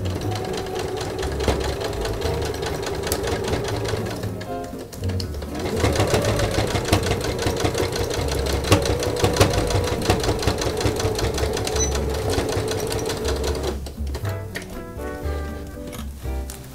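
A sewing machine stitches a hemp canvas pencil case in two long, steady runs with a brief pause between them, close and loud, ending in a few short stops and starts.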